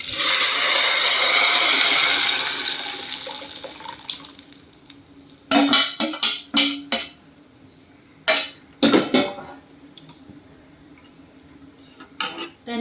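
Dal (varan) poured into hot tempering with curry leaves, a loud broad sizzling hiss at first that fades, followed by sharp clinking of a spoon or ladle against the pot in bursts as it is stirred, no talk.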